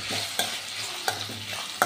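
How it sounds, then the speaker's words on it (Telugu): Onions, capsicum and carrots fry with salt in oil, giving a steady close sizzle broken by a few quick spoon stirs that scrape against the pan. "అందులోనికి సరిపడినంత కొంచెం సాల్ట్ వేసేసి మొత్తాన్ని ఒక 5 మినిట్స్ అలా ఫ్రై చేస్తున్నాను"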